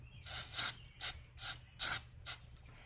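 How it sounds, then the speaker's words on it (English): Brake cleaner is sprayed onto a towel in about six short, sharp hissing bursts in quick succession, close and fairly quiet, with no speech. "I think I'll take just a touch of brake clean on a towel"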